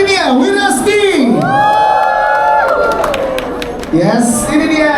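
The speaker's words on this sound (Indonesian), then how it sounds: "Berikan tepuk tangan untuk Adinia Wirasti." Applause and cheering from a gala premiere crowd swell under an emcee's amplified voice as a film cast member is welcomed, with whoops and clapping rising near the end.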